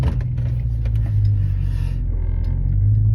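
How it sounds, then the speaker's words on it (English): A car's engine rumbles steadily at idle and low speed while parking, a close, continuous low drone with no talk over it. "Hold on, we're parking."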